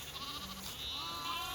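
Sheep and lambs in a flock of ewes with young bleat faintly a few times in quick succession, somewhat distant, against low background noise.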